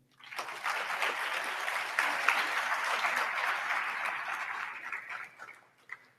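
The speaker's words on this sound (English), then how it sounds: "I think we should give them a round of applause" Audience applause at a graduation ceremony rises quickly and holds steady, a dense wash of many hands clapping in a large room, then fades out.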